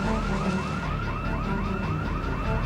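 A car alarm blares in the Project Zomboid video game, a steady loop of repeating rising wails cycling about every third of a second, loud and continuous with no voices over it.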